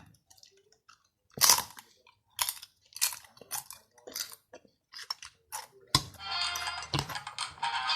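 Someone eats tom yum noodle soup with red pork, with a run of close, crisp bites and chews in irregular bursts and a brief rustle near the end, and no talk.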